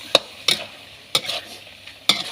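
Curry paste and fingerroot stir-fried in a pan for a spicy eel dish: four sharp scrapes and clacks of the spatula at uneven intervals, each trailing into a brief sizzle, close and with no talk.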